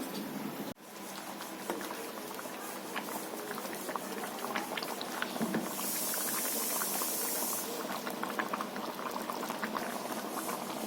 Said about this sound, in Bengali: চাপা লাগিয়ে দিচ্ছি, সেদ্ধ হোক এখন